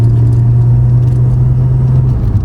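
A Nissan Skyline R32 GTR fitted with a new 800hp gearbox gives a loud, steady engine drone with deep low rumble, heard up close from inside the car with no talk.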